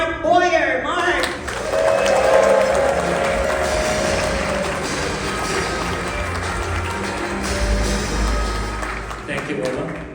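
Applause and cheering from an outdoor crowd at a Six Flags Over Texas announcement event, sustained and dense for about ten seconds before fading, with voices mixed into the noise.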